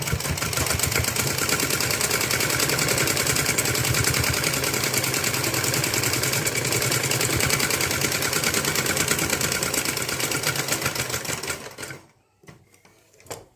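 A sewing machine stitching a blouse runs steadily at high speed with a fast mechanical whir and rattle, loud and close, then slows and stops near the end, leaving a few faint clicks.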